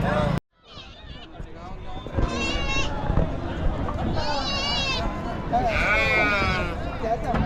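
Mandya breed sheep bleat repeatedly at a busy livestock market, several loud wavering calls rising over constant crowd chatter and nearby voices.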